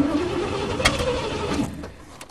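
A primed engine cranks and catches with a rough, rising mid-pitched roar, then falters and fades toward the end, loud and close, with no talking.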